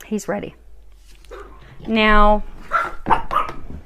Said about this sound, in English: So apologies for the mouthy dog.